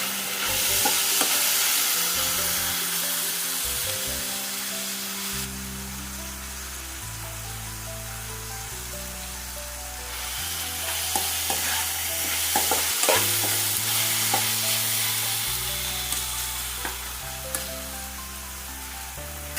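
Onion and tomato sautéing in a pan for a mutton liver fry give a steady, close sizzle with occasional stirring clicks, running throughout under a background music track.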